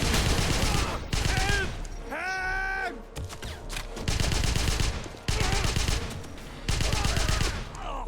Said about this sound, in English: Wouldn't mind bringing that massive machine gun with me.